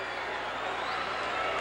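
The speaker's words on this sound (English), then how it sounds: "A tremendous uproar." A packed arena crowd at a Mid-South Wrestling no-disqualification match, Dick Slater against Jake 'The Snake' Roberts in 1986, roars in a steady, loud, unbroken wall of cheering and noise.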